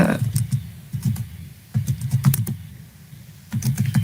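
Quick bursts of clicking keys as a command is typed on a computer keyboard while configuring Telnet on a network switch, close and crisp, with short pauses between runs of keystrokes.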